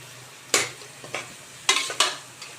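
Cabbage poriyal with grated coconut is stirred in a pan, producing a few distinct scraping, sizzling strokes spaced about a second apart, fairly close and moderately loud, with no talking.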